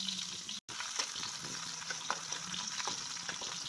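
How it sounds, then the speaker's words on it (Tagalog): Garlic hits a hot pan and fries with a constant crackling sizzle, close by, with light stirring taps and one very short dropout near the start. Nobody speaks. "mainit na ang kawali lalagay natin yung bawang"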